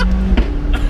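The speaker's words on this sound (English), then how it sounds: "on the upshifts, these cracks you get on the upshifts are pretty special" A McLaren 675LT engine holds a steady drone, then a sharp exhaust crack bursts out on an upshift near the middle, with a second fainter pop toward the end.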